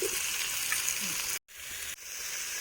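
Potatoes and tomato fry in a pan, giving a steady bright sizzle that cuts out briefly before resuming.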